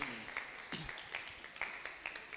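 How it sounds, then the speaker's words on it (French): A quiet audience at a humanitarian development event applauds, with scattered, distinct claps and a faint background voice. "Beaucoup d'applaudissements"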